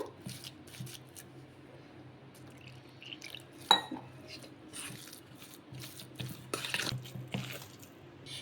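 Idli batter made from poha being mixed by hand in a bowl, soft wet squelching and sloshing with occasional clinks of the container, close and quiet.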